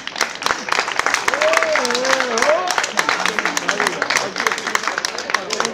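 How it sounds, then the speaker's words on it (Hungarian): An audience at the Galiba Days festival in Újkígyós claps for the donors of paintings, a dense sustained round of applause with a speaker's voice carrying over it at times. "de tapsoljuk meg a fel ajánlókat is"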